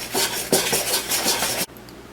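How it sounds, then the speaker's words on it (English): A stiff-necked knife scrapes and stirs dry bread ingredients in a bowl, a busy run of close scratching and clinking rubs that stops abruptly near the end, leaving quiet. "I'm going to get out a stiff-necked knife and just mix that around"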